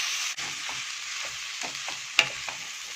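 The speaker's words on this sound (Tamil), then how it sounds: "இதை நல்லா நம்ம மிக்ஸ் பண்ணிடலாம்" Aval upma, a dish of flattened rice or poha, stirred in a pan: soft scraping strokes come in an uneven rhythm over a low sizzle, with one sharp clack of the spatula near the end.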